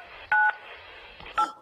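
Telephone keypad tones, two short dialing beeps about a second apart over faint background noise.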